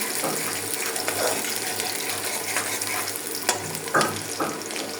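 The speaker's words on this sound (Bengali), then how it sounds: "আমি মাংসর পেঁয়াজটা বাগারের জন্য ভেজে নিতেছি।" Onions fry in a pan for a beef and potato curry, giving a quiet, continuous sizzle broken by a few sharper crackles and stirring scrapes toward the end.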